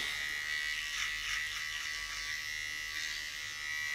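An electric shaver buzzes steadily and close up as it passes over a client's head at a Turkish barber shop, a continuous whirring hum with slight shifts in pitch as the blades move across the scalp.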